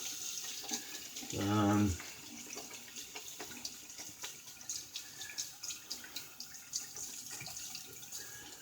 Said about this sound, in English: Let me go ahead and wash this brush up.